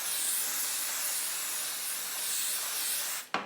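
Aerosol spray hisses continuously and evenly onto embroidery work held in a hoop, a close, steady jet ending with a short sharp click.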